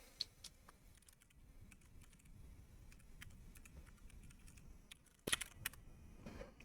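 Fingers type a password on a computer keyboard, giving quiet, sparse key clicks that end in a short, louder burst of taps. No one talks.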